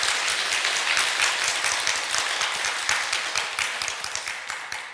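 Dense, steady applause from an audience fills the whole stretch, loud and continuous with many overlapping claps, tapering slightly toward the end.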